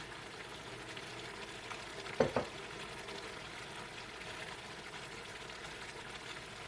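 Bicol Express with shrimp paste frying in a pan, a steady low sizzle running throughout with a brief scrape of stirring partway through, close and moderately quiet.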